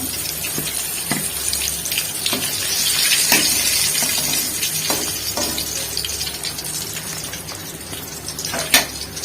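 The remaining pieces of homemade crispy fried chicken sizzle in hot oil with a steady, hissing crackle and scattered sharp pops and clicks throughout, with no one speaking.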